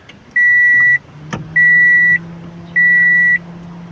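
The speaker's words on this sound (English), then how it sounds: "I'm just trying to turn on the AC because it's too hot in here." Three long, steady electronic tones from an air conditioner unit as it is switched on, each lasting about half a second with even gaps, heard clearly indoors over a low background hum and a single sharp knock.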